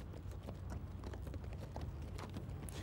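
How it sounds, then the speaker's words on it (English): Horses drawing military guns clip-clop with a steady run of hoof beats, faint and muffled beneath a low rumbling background throughout. "Many of its guns still had to be horse-drawn."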